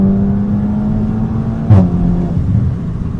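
A SEAT Cupra 5F with stage 2+ tuning accelerates, its engine droning steadily from inside the car, with a brief whooshing burst midway like a turbo or gear change.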